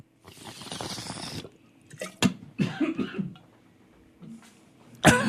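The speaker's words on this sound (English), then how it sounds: "A little coughing." A person coughs in several harsh bursts after drawing on a bong, with rough throat-clearing and breathy gaps between the fits, close and fairly quiet.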